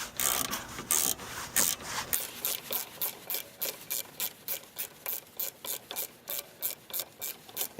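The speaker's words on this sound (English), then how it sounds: "I'm going to use a ratchet with a socket to tighten on" Ratchet with a socket tightening brake bolts, a few longer rasping strokes followed by a fast, even run of clicking ratchet pulls, close and clear with no voices.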